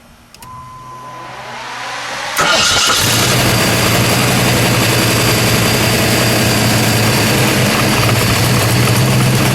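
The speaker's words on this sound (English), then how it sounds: "Let's let it idle, and then we'll give it a rev. Let's start it up" A 1972 AMC AMX Javelin's 401 V8 engine cranks and catches with a loud roar, then settles into a steady, deep, rumbling idle close by.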